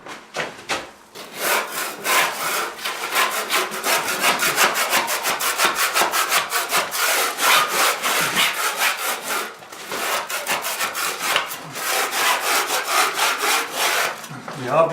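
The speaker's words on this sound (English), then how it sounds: "it's time the plaster set up and it's time to scrape it down and apply the finish layer." A scraper working over set plaster brown coat on a ceiling, rapid repeated rasping strokes in steady bursts with a brief pause midway, close and loud with no voices.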